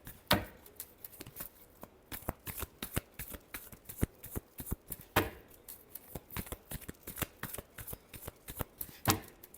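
Tarot cards are shuffled close up in a steady run of crisp riffling snaps and flicks, with a few sharper slaps, all heard alone in a quiet room.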